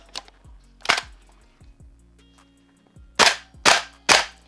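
A Cybergun Scar Light MWS gas blowback airsoft rifle, using a Guns Modify magazine, fires sharp single shots, a few spaced ones followed by three loud cracks in quick succession, each with a short mechanical clack of the cycling bolt.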